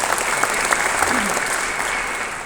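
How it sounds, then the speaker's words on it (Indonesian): Audience applause fills the room for an honoured guest at a motivational seminar, steady dense clapping throughout, loud and continuous with a faint murmur of voices underneath. "kita beri aplaus dulu buat beliau"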